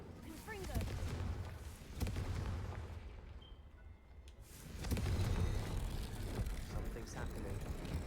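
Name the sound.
Incendio and Confringo spells cast in Hogwarts Legacy video game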